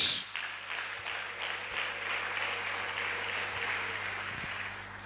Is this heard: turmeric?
no